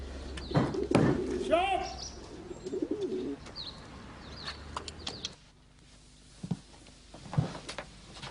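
A pigeon coos nearby, soft throaty calls mixed with a few chirps and a brief flutter, while people talk over it before the sound fades to quieter moments.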